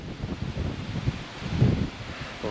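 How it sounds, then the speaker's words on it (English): Strong wind gusting by the Missouri River during a fishing trip, heard as steady broadband rushing and rustling with buffeting on the microphone and surges that rise and fall, loud and close, with no voices. "it's super windy right now"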